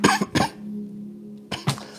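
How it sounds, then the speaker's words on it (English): Two pairs of sharp, harsh coughs close to the mic, separated by a quiet pause with a low steady hum underneath. "I can't stop coughing"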